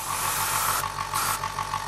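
Airbrush spraying a small amount of flesh-colored paint onto a damaged model trap, a steady close hiss with brief stronger bursts as the trigger is pressed, heard alone.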